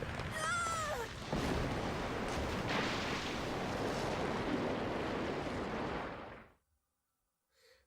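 Heavy cannon fire booms in the Tales of Vesperia video game, a dense, sustained roar of blasts with whistling projectiles at the start, cutting off abruptly near the end.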